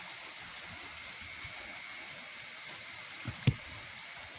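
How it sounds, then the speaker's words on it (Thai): Rain falls on a rice paddy where fishing hooks are being set, a steady close hiss throughout with one brief thump near the end. "ฝนตกครับ"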